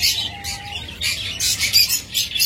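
Blue masked lovebirds, a caged breeding pair, give repeated bright chirps and short high calls in quick bursts, fairly close, with no talk over them.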